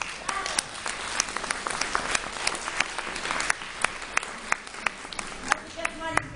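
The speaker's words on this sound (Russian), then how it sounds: "Я думаю, что это стоит ваших аплодисментов." An audience at a creative evening presenting an artist applauds in a steady wash of clapping, with individual sharp claps standing out near the microphone and a voice speaking over it.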